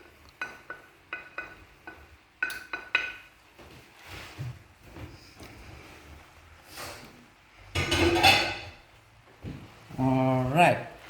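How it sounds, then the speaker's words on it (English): A spoon stirs tinned fish pasta with two cups of cheese in a pot, making scattered scrapes and clinks of varying strength, with louder metallic rattling bursts near the end. Soft talk comes in between. "And our 2 cups of cheese. Okay. Mix all of this in."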